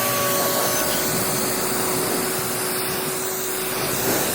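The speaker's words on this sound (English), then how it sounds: "it's time to rinse off the Incredible Suds" A pressure-washer spray rinses soap suds off a car during a hand wash, a loud continuous hissing rush of water that is close and unbroken, with no talking.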